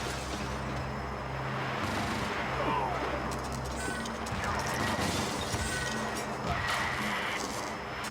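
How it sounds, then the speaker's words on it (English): Glass shattering in the video game Minority Report: Everybody Runs, heard as loud smashing bursts over continuous busy game noise with low hums and mechanical clatter throughout. "The glass breaks very easily in this game, doesn't it?"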